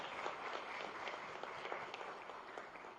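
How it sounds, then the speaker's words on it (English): Soft, sustained applause from an audience at a formal signing event in Gandhinagar, even and somewhat distant, with a few sharper claps poking through and no talking. "Please welcome with a round of applause"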